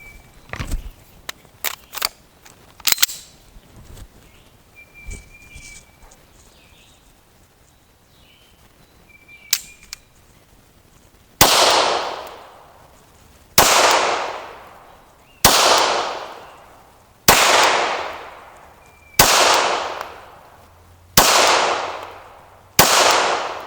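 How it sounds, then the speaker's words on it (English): A Sig Sauer P226 Mk25 pistol fires remanufactured and steel-case ammunition at a shooting range, seven loud, sharp reports at an even pace of about two seconds, after scattered quieter clicks and handling noises. "I'm shooting remanufactured and then steel case mixed in."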